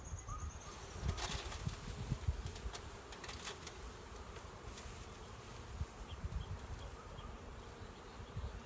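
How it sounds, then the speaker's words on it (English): Many bees buzz steadily at close range during a honey harvest, a dense droning hum with faint rustling, and no voices. "now there are bees everywhere"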